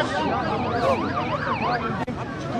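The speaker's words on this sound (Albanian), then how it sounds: "në këtë moment e po mbrin edhe ambulanca" An ambulance siren sounds loud and close as it arrives at a street protest, its wailing tone sweeping up and down steadily over crowd noise, with a brief dip near the end.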